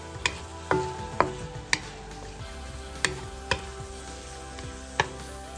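Garlic, onion and ginger tossed together into melted fat in a pan for chicken curry, giving a low fry hiss under a string of sharp spatula taps and clinks at irregular intervals.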